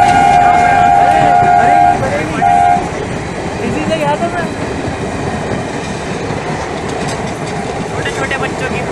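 A passenger train bound for Bareilly rushes past at full speed beside a slum where people sit on the tracks, its horn blaring near and loud before the steady roar and clatter of wagons continues, with people talking over it.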